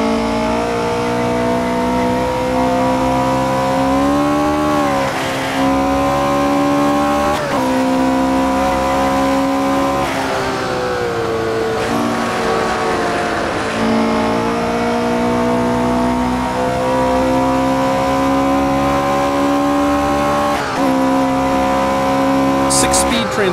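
A Porsche 804 race car on the Solitude circuit in Assetto Corsa, its engine a loud, buzzing, high-revving whine that rises and drops through gear changes, with occasional tyre squeal and speech over it.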